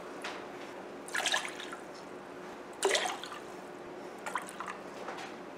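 Water is poured from a cup onto instant dal mix in a pot, giving a few short splashing, dribbling pours separated by pauses, close and moderately quiet over faint background hum.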